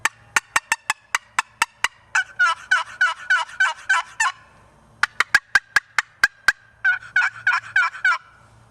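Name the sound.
wooden box call imitating turkey sounds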